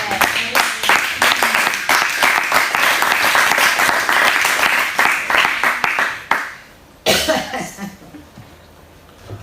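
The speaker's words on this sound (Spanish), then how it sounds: "Pero dale un aplauso al Señor, hermano." Congregation applause in a church, loud close clapping with distinct individual claps for about six seconds, then a sudden stop followed by a cough and brief scattered noise.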